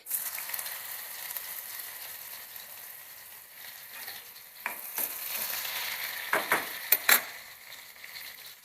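Onion hits hot oil in a pan while cooking bitter gourd, giving a continuous close sizzle with stirring scrapes and a few sharp clatters near the end.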